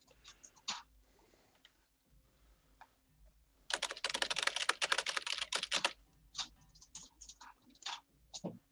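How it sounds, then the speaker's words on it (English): Someone types on a computer keyboard during a tabletop gaming session. Scattered keystrokes are followed by a dense, fast burst of clicking and then more sparse taps, close and clear with no talking. "That was some good typing."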